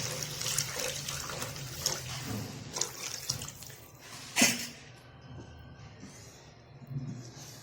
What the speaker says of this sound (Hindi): अब मैंने डालना है इसमें पानी।